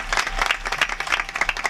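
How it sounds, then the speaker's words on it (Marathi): A short burst of audience clapping at a devotional kirtan discourse, fairly close and uneven, a loose patter of hands lasting under two seconds. "एकदा तर बघा टाळ्या वाजव"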